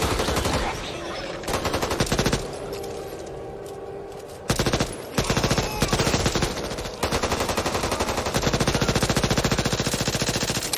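Rapid automatic gunfire from a machine gun in the zombie shooter Back 4 Blood, loud close bursts of dense shots broken by short pauses and changing rhythm, with game effects between volleys.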